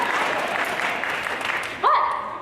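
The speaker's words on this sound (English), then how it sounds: "Settle down that clapping." An audience claps in steady, dense applause at a talk on secular family values, then a voice cuts in near the end as the clapping continues.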